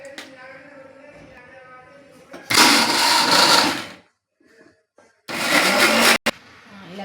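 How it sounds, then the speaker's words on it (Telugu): Mixer grinder blending green chillies, garlic and cumin into a paste, running in two loud bursts of about a second and a half each, separated by a pause with light handling sounds. "మిక్సీ పట్టేసుకోవడమే"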